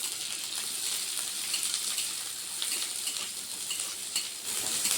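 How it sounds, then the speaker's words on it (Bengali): Sliced onions fry in mustard oil with a steady, close hiss and crackle, a dense, even sizzle with faint scrapes of a utensil stirring in the pan. "তারপরে সরিষার তেল দিব, তেল দিয়ে ভাজলাম"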